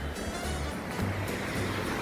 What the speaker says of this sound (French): Regardez-moi cette cascade comme elle est belle.